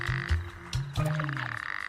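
Male toads calling with croaks swollen by their throat sacs, a run of low, fairly loud pulsed calls overlapping and repeating steadily, with a brief rough burst partway through and no voices.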